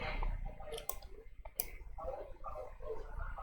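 A computer mouse clicks a few times, with crisp isolated clicks heard close up against faint room noise during a computer lesson in a spreadsheet program.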